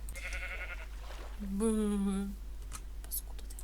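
A sheep in the block-building game Minecraft gives one clear wavering bleat lasting under a second, close and loud over a steady low hum, with brief voice-like sounds and clicks around it.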